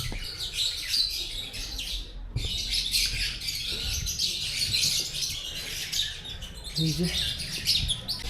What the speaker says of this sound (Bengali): এটা পাখি আছে বিভিন্ন ধরনের